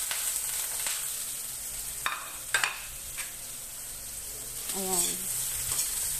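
Ginger frying in a pan as the first step of sinigang sa miso with pink salmon head. A soft, steady sizzle runs throughout, with a few scrapes and clinks of a small ladle stirring. A voice briefly speaks near the end.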